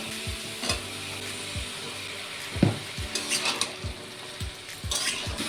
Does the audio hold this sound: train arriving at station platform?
no